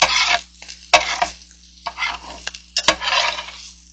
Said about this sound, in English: once you've removed all the moisture out of your onions and peppers